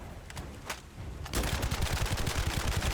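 Bursts of rapid gunfire in The First Descendant, a few sharp scattered shots first, then a dense, fast volley of repeated cracks that grows louder and continues to the end.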